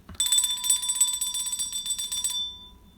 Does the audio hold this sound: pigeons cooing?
no